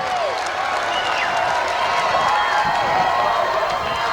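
A stadium crowd at a monster truck race in Lima, Ohio, cheering and clapping in a broad, sustained roar. The sound is steady and fairly distant, with faint engine and announcer-like tones running underneath.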